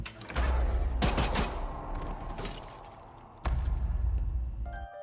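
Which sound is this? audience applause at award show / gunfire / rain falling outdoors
gunfire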